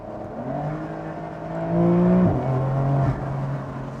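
A Porsche 911 Carrera 4S Cabriolet accelerates hard in second gear from around 90 km/h, heard from inside as a loud engine drone that climbs in pitch, dips briefly, then carries on.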